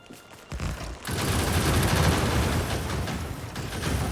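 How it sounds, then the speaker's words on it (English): Powerful gun turrets in Factorio's Warptorio mod open fire after a couple of clicks, pouring out a loud, dense and continuous stream of rapid shots that keeps going to the end. "I forgot Warptorio has these super powerful gun turrets"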